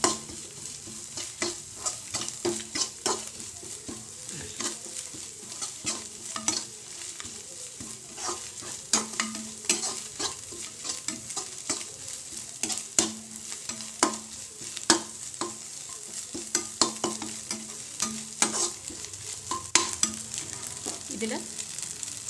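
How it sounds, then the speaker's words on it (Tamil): Beaten egg scrambles in a hot pan, crackling and sizzling nonstop while a spoon stirs and scrapes in quick, repeated strokes, close and steady throughout with no talk. "முட்டை பொடி பொடி ஆகிற வரைக்கும் நல்லா கிண்டிகிட்டே இருக்கணும்."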